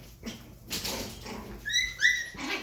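A long coat Chihuahua puppy gives a few thin, high-pitched whimpers and whines, close and fairly soft, with brief pauses and some low shuffling between the cries.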